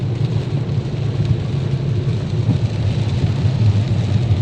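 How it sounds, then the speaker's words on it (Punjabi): Heavy rain roars in a dense, steady wash with a deep low rumble underneath, loud and unbroken throughout, no voices. "ਮੀਂਹ ਦਾ ਕਾਫੀ ਜ਼ੋਰ ਦੇ ਨਾਲ ਚੱਲ ਰਿਹਾ"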